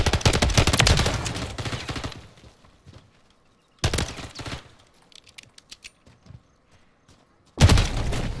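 Video game gunfire comes in three loud, close bursts of rapid automatic shots, separated by near-silent gaps that hold only faint, scattered clicks.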